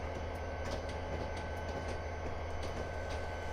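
A train in a railroad video game rolls along with a low, steady rumble and faint rhythmic clatter, moderately quiet and continuous, with no talking.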